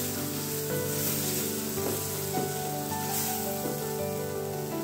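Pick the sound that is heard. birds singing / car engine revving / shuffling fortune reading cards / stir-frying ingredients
stir-frying ingredients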